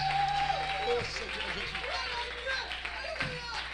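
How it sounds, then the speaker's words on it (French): Congregation applauding during a bilingual French-English church sermon, a steady wash of clapping with a voice and cheers riding over it throughout. "Give him a round of applause"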